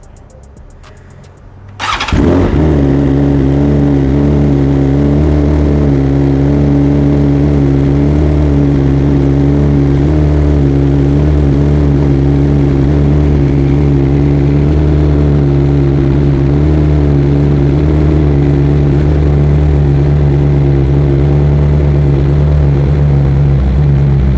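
A stock 2023 BMW S 1000 RR sport bike cold-starts with a short starter whir, then catches into a loud, close, steady high idle that drones on without pause for over twenty seconds.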